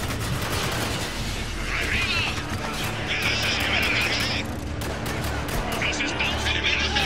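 Gunfire in the video game Spec Ops: The Line, rapid repeated shots cracking steadily throughout under a constant dense game soundscape, with a player talking in Spanish over it.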